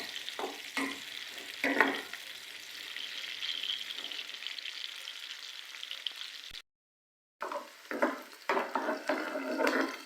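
A large onion frying in half a cup of oil in a pan, a steady close hiss of sizzling with occasional stirring scrapes, briefly cutting out near the end before resuming, no talk.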